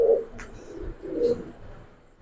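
Giribaz and coloured pigeons coo softly nearby, two low throaty coos a second apart, alone in a quiet room.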